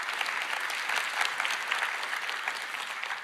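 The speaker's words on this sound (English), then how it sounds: "A round of applause to our creator team for building this amazing product." A keynote audience claps for the creator team in dense, sustained applause that runs evenly for about three seconds at a moderate distance, with no voices on top.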